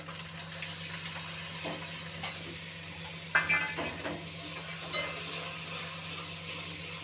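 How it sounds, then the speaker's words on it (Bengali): Ground coriander, cumin, chili and turmeric frying and being stirred in a pan for a vegetarian potato and soya chunk dum curry, a steady sizzle with a few clinks and scrapes of the spoon, no talking. "ধনে গুঁড়ো, জিরার গুঁড়ো আর মরিচের গুঁড়ো, হলুদের গুঁড়ো আমি এক চামচ করে নিয়েছি, এখন দিয়ে দেব।"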